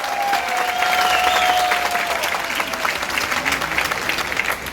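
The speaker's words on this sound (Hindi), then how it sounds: "एक बार अपने लिए जोरदार तालियां।" Audience applause at a leadership development program meeting, loud sustained clapping from a crowd with a tonal whistle-like sound above it early on.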